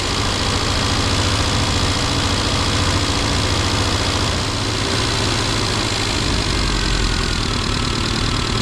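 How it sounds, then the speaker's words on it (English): A Classic Mini Cooper RSP engine runs loud and close with a steady, rough idle after a distributor timing adjustment and vacuum reconnection. "the engine now is kicking up"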